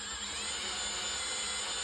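A drill fitted with a cutter bit grinds steadily into a stubborn wheel nut on a Jaguar XF, a continuous close, even whine with no pauses or voices.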